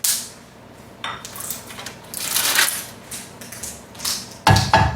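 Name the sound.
ginger, jalapeno and garlic added to oil in frying pan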